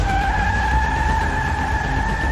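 Car tires skidding during a chase in the video game The Wolf Among Us, a loud sustained squeal with a steady pitch over engine rumble, alone without talk.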